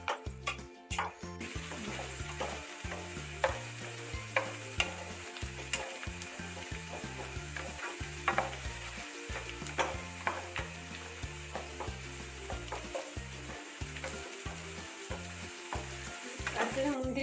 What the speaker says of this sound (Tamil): சின்ன வெங்காயம் இதில் போட்டு ப்ரௌன் கலரில் வர மாதிரி, கோல்டன் ப்ரௌன் கலரில் வர மாதிரி நல்லா வறுத்துக்கோங்க.